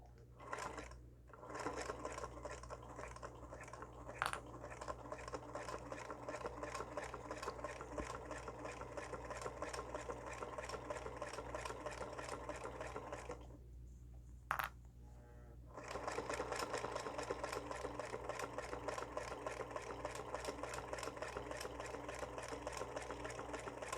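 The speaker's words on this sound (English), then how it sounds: "I'm going to lift my presser foot, pivot, put my presser foot down, and I'm going to continue along the bottom." A sewing machine stitches along the bottom of a zippered training bag, a fast steady mechanical whir and needle chatter, pausing briefly once for a pivot before resuming at full speed.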